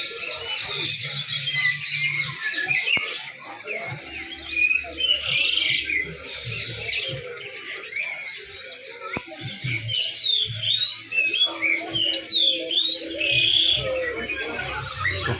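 Caged songbirds at a bird seller's stall chirp and trill constantly in bright overlapping bursts, with occasional squawks and faint voices and low murmur in the background.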